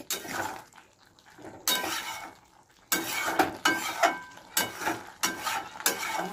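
Potato and shrimp curry being stirred and sautéed in a pan, a spatula scraping and clinking in repeated bursts with soft sizzling between strokes, close and without talk.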